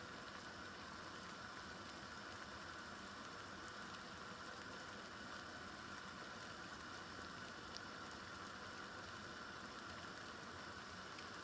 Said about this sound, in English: 5 minutes it has been boiling